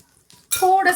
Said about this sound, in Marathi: पाणी टाकायचं आहे आणि थोडंसं 2-3 थेंब तेल टाकून घ्यायचं आहे